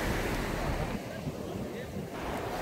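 Sea waves at Serenity Beach in Pondicherry, a fishermen's shore lined with boats and trees, roar in a broad, steady wash with wind buffeting the microphone.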